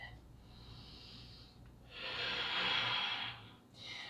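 Slow, audible breaths during a yoga lunge, a longer inhale followed by a stronger, louder exhale through the nose and mouth, close and alone.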